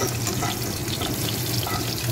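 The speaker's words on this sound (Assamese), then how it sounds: "এনেকৈ ভাজিম।" A constant loud sizzle of onion frying in hot oil, close and unbroken, with faint stirring texture.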